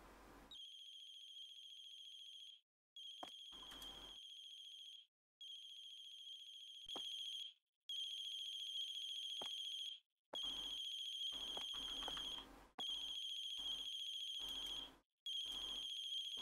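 A phone ringtone in The Closing Shift video game, ringing in repeated bright electronic bursts separated by short gaps, loud and clear, with no one talking.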